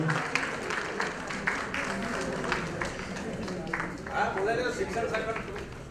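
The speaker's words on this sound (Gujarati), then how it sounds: "ખૂબ બધી તાળીઓના નાદ સાથે આપણે બધા ઉમળકા ભેર" An audience at a government primary school retirement farewell ceremony applauds with a steady, moderately distant patter of clapping, with a voice speaking over it.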